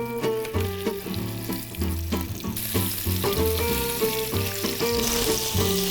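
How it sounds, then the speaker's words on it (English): Salmon fillets sear flesh side down in hot oil, a steady hiss and sizzle that grows brighter partway through, heard beneath loud rhythmic music. "we're gonna start off by going flesh side down into the oil"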